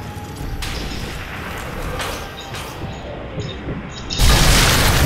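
Sniper rifle shots in the Sniper Elite 3 video game crack out as a few loud, separated blasts with booming tails over a constant rumbling background, the last shot the heaviest.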